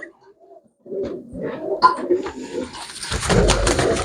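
Pigeons kept for sale coo in short, low, throaty bursts close by, building toward the end, where a louder rustle of wings or handling noise joins in.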